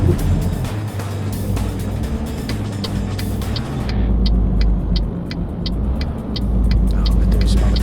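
Cars in Euro Truck Simulator 2 drive past on the road, a constant engine drone with ticking and rumbling tones, loud and close throughout.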